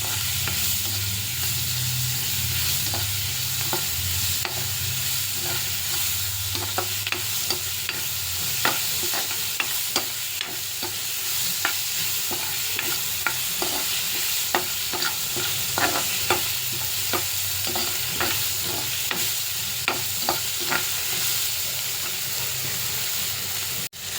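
Food frying in a pan while turmeric powder is stirred in, a continuous sizzle and hiss under a steady run of spoon scrapes and taps against the pan, fairly loud and close, without speech.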